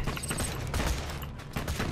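Rapid SMG gunfire from Borderlands 2, a dense, loud stream of shots running steadily through the whole stretch with only brief dips.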